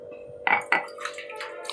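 A stone grinding slab used for chutney being washed, with a steady running-water hiss and two sharp clinks of stone close by, followed by softer splashes and scraping.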